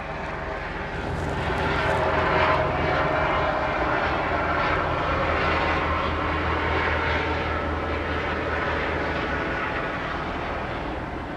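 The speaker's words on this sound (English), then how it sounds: "here comes a whole helicopter" A helicopter passes overhead, a loud, steady engine roar held for over ten seconds, a rotor drone that swells early and stays constant with no talking.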